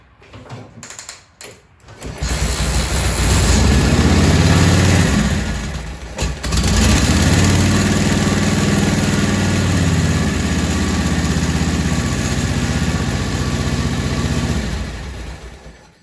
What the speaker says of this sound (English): That's how easy it is to kick over this 1942 Harley.